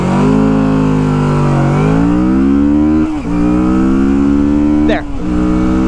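A cruiser motorcycle engine pulls hard in acceleration, its loud, close drone rising in pitch through a couple of gear shifts with brief dips between them.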